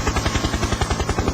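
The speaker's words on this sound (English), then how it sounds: "Helicopters on rooftops, okay, bailing out." Helicopter sound effect with a steady, rapid rotor chop, loud and close, playing alone without talk for a brief moment.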